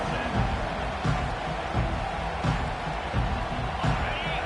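A college football video game crowd roars in a loud continuous wash of noise, with rhythmic thumping swells, as in a Baylor versus Clemson game, under which talk can be heard.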